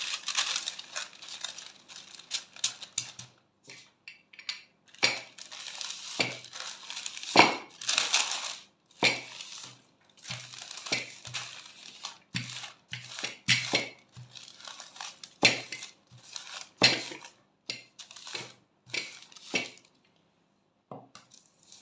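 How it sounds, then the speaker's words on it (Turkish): Baking paper crinkles and rustles in irregular, close bursts as a rolling pin works dough beneath it, with soft knocks against the counter and no speech. "Sonra yağlı kağıdımı üzerine kapatıyorum ve açmaya başlıyorum."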